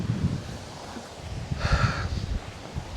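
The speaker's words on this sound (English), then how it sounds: "It's windy." Gusty wind buffets an outdoor microphone at a bee ranch, producing steady low rumble and rustle with a brief brighter swell of noise midway.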